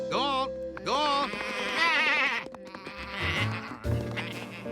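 Several sheep bleat in overlapping, wavering calls, loud and close, with short pauses between bursts.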